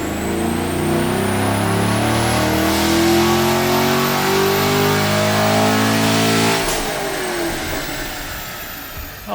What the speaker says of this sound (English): let's start with some baseline dyno pulls